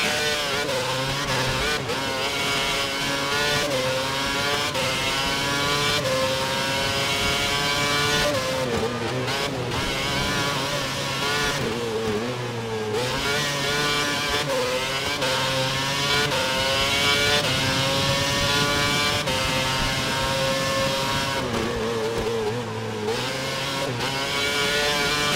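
F1 race cars in the F1 2011 game at the German Grand Prix, engines screaming and revving continuously through rising and falling gear changes, loud and close for the whole stretch.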